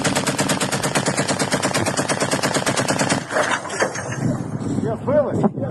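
Loud, rapid machine-gun fire aimed at Shahed drones, a steady burst of dense repeated shots for about three seconds, then broken, irregular shots and outdoor noise with voices near the end.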